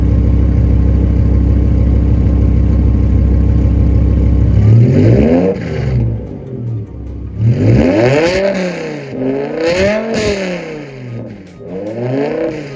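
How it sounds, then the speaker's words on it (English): A BMW E60 M5's V10 engine with a very loud exhaust idles with a low rumble, then revs hard in repeated rising and falling bursts, close by. "Some revs."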